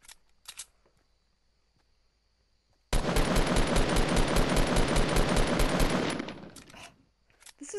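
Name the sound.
assault rifle gunfire in a video game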